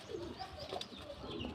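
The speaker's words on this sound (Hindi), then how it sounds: "एक रेसर कबूतर है और दूसरा रोशन चिराग है, जो आपस में लड़ रहे हैं" A racer pigeon and a Roshan Chirag pigeon fight, giving faint, soft cooing and scuffling calls for a brief moment, quiet and close.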